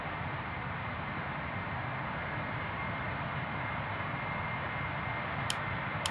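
Steady broadband jet engine rumble from a Boeing 777 taxiing in Real Flight Simulator, a constant even drone with no voices and a brief faint click near the end.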